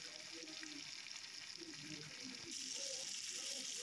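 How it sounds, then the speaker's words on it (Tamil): Fish pieces fry in oil with a soft, steady sizzle close by that grows slightly louder and brighter partway through. "நல்லா அது ஃப்ரை ஆகட்டும்"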